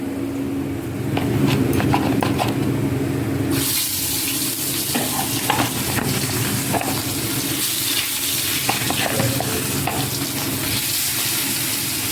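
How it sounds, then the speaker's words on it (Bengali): Pieces of hilsa fish are lowered into hot oil in a home kitchen. Quieter clatter and running water come first, then a loud, crackling sizzle bursts in a few seconds later and keeps going steadily to the end. "দেখো তেলটা আমার গরম হয়ে গেছে এটা আমি একটু দিয়ে মাছ ছাড়বো"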